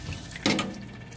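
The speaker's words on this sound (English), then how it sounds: "Just rinse it out with cold water." Cold tap water runs briefly over boiled shrimp in a kitchen sink, a short splashing gush starting partway in and trailing off, close and moderately loud with no talk.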